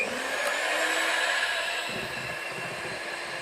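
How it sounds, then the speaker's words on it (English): An electric whisk beating cake batter, a loud, steady motor whine with a bright high hum that runs the whole time, the tone dipping slightly toward the end. "Now I will whisk this again for a few more seconds"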